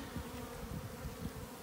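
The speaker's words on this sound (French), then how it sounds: "je vois des abeilles qui rentrent puis qui sortent là, du trou" Honeybees buzz steadily around the entrance hole of a weak hive on their first flight of the year, a continuous close drone of many wings with no talking.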